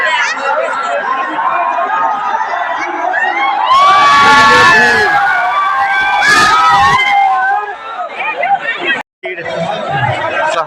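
A dense New Year crowd at the Mithila Haat fair fills the air with loud, continuous chatter, shouting and children's voices, swelling at times into bursts of cheering close around.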